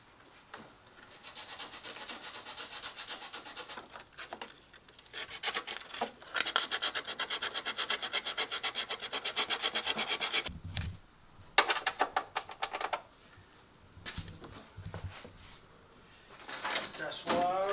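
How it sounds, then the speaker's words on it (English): Sandpaper scrubs the paint off the chassis of a 2003 Honda Accord down to bare metal. Bursts of close, rasping, back-and-forth scratching come with brief pauses and some quieter gaps. "we're going to sand the paint off all the way down to the metal before we attach our ground to it"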